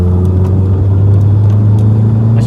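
1984 Vauxhall Cavalier engine pulling while driving, a loud steady mid-low drone with a slowly rising tone, heard from inside the car, continuous throughout.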